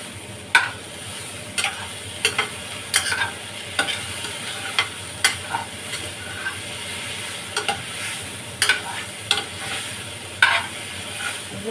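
Bottle gourd peel and potato stir-fried in a pan tempered with nigella seeds and green chilli give off a soft continuous sizzle, broken by sharp scraping clicks of a spatula at irregular intervals, close and without talk.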